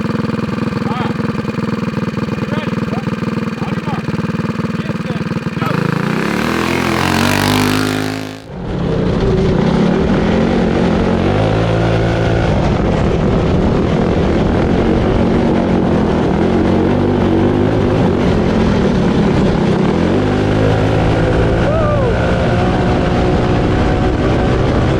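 A 25HP big-valve yard kart engine revs hard on a warm-up lap, its loud close droning roar rising and falling through gear-like pitch sweeps, briefly cut by a whooshing drop before it surges again, with voices in the background.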